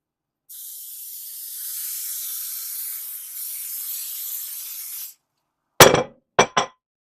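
A steady hiss of aerosol spray on a big bread pan lasts about four seconds, then a pause, followed by three quick clinks of metal or glass.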